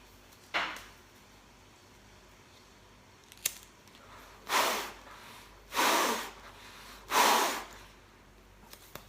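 Someone blows hard through a five-layer face mask, giving three strong breathy gusts close to the mic, each about a second long, after a couple of short clicks and rustles.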